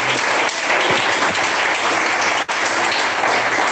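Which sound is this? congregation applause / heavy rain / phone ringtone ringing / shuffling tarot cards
congregation applause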